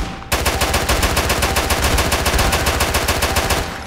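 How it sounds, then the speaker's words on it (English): Rapid automatic gunfire in Grand Theft Auto IV with an LCPDFR police mod, a loud sustained burst of evenly spaced shots that starts abruptly and runs nearly four seconds. "I actually missed all the shots."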